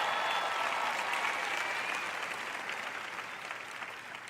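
A church congregation applauding during a sermon on patience and peace: broad, sustained clapping from many hands, loud at first and gradually tapering off.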